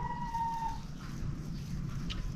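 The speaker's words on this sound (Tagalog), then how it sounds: "Naghihintay mga manok." Chickens clucking nearby in a rural yard, soft scattered clucks and a brief crowing note over faint background noise, fairly quiet with no speech.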